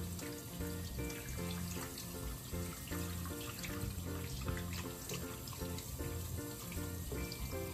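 A tap runs steadily into a sink as hands are rinsed under the stream, a continuous close splashing flow with no talk during it.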